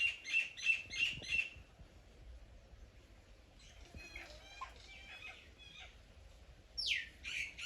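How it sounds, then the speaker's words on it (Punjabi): A male Asian koel calls in a sunny farm garden, giving quick repeated whistled notes in a burst, then another softer series and a final rising call, fairly faint against a quiet background. "ਇਹ ਕੋਇਲ ਦਾ ਨਾਰਾ"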